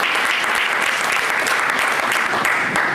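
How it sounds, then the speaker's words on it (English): Audience applause at a Philadelphia chapter rally of the New Black Panther Party: a dense, loud, steady round of clapping from a crowd that fills the whole stretch without a break. "Give yourself a round of applause for being here"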